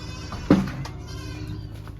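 A single short goat bleat stands out over a steady low hum and faint background noise, fairly close.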